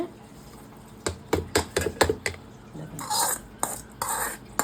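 A spoon stirs and mixes cumin chutney made with roasted ground cumin and a tempering of mustard seeds, curry leaves and dried red chillies, giving a series of distinct scraping, tapping clicks against the bowl, followed by softer rustling mixing.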